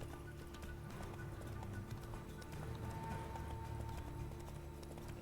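Hooves of the horse Roach in The Witcher 3 video game clip-clop at a steady gallop, a continuous rhythmic drumming close up, with an occasional whinny and no talk over it.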